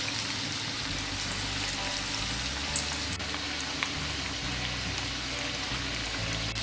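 Falafel frying in hot oil, a steady close sizzle and crackle that holds evenly throughout with a few faint pops, no voices.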